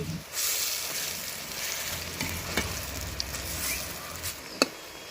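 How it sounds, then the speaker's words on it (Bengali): Fritters (bora) fry in hot white oil with a loud, steady sizzling hiss that runs throughout, broken by a few sharp clicks and taps from the pan. "এবার আমি এগুলো বড়া ভেজে নেব"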